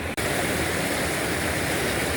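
Water streams steadily from a wrung-out Milbank filter bag at a jungle campsite, a loud continuous splashing pour that runs unbroken after a brief gap at the start.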